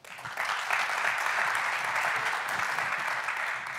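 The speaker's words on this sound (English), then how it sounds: "let's hear a round of applause" A crowd at a Casper Suite tech conference talk breaks into a round of applause, which rises quickly after a brief quiet start and holds as a steady, moderately distant wash of clapping.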